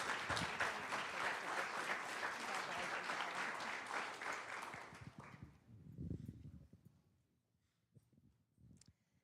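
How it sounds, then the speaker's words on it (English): Audience applause at a county school board meeting, a dense burst of clapping for about five seconds that fades out, followed by scattered room noise and a few murmurs. "Let's give both of them a great big round of applause."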